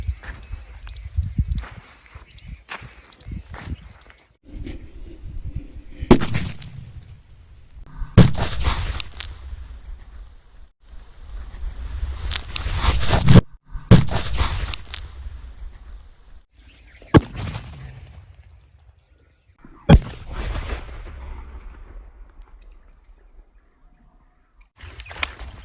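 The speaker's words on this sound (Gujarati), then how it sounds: "આપણે મેકી દીધો ડબ્બો ઉપર અને આપણે જોઈએ કેટલો ધમાકો થાય છે" A Diwali firecracker bomb set off under a tin can, several sharp loud bangs spaced apart, each followed by a rattling clatter, amid quieter outdoor shuffling between blasts.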